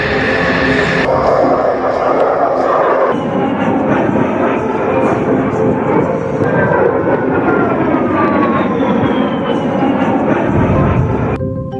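A US A-10 military jet gives off a loud, continuous roar that holds steady throughout, with a slowly shifting whine over the rumble.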